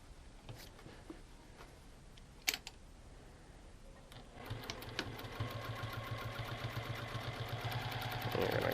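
A sewing machine stitches down quilt binding, starting with faint handling taps and then settling into a steady, close mechanical whir that builds slightly in level toward the end, with no talking.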